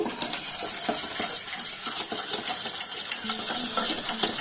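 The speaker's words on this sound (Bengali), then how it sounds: "এখন এই যে আমি হুইপ দিয়ে এটাকে বেশ ভালো করে মিশিয়ে নেব।" A hand whisk beats sugar into cake batter in a bowl, giving quick rhythmic metallic clinks and wet swishes that repeat steadily at close range, with no talking.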